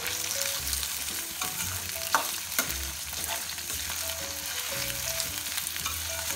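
Goat liver sautés in oil with cinnamon, cloves, masala and onion, making a steady close sizzle broken by occasional scraping and stirring knocks, with no voices.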